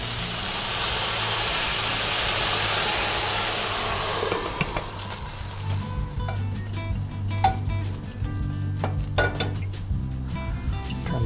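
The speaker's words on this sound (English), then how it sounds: "Now we'll add the boiling water and cover." Loud hissing sizzle erupts as boiling water hits a hot pan of gyoza, then settles into quieter bubbling with a few clinks of cookware.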